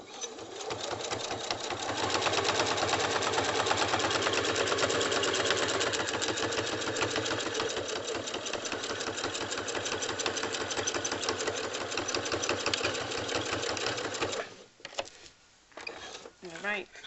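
A sewing machine running steadily while stitching quilt binding, a fast continuous mechanical whir and needle chatter for most of the clip, stopping near the end, then brief handling noises.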